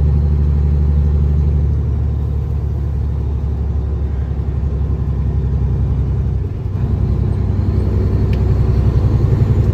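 A classic truck engine idles steadily with a deep, constant rumble up close, a brief dip around six and a half seconds before the low throb resumes, with no talking.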